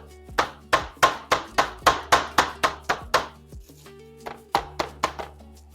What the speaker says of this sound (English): We're going to flatten them slightly using a meat pounder